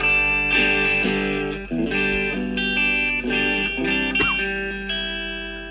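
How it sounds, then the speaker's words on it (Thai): Electric guitar with heavy distortion through a Cube Baby amp cabinet, playing several sustained notes and short phrases, loud and close, with no voices. "เสียงจากตู้แอม"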